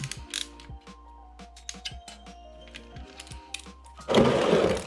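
A ratchet with a 17 mm socket on the oil drain bolt of a Kawasaki ER-6N motorcycle, giving a series of sharp mechanical clicks and ratcheting strokes, close and fairly loud, ending in a louder rough scraping burst.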